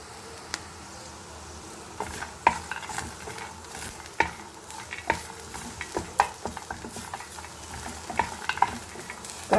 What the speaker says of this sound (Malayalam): നിലക്കടല ചേർത്ത് അതും കൂടി ചേർത്ത് ഒന്ന് വറക്കുക